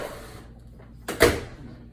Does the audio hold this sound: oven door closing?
yes